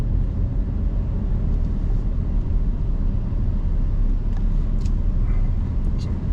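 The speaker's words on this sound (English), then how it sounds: "See all the driving you have to do with your rig" An RV rig drives slowly through a Thousand Trails campground in Verde Valley, its steady, loud, low engine and road rumble continuous throughout, with a few faint higher squeaks near the end.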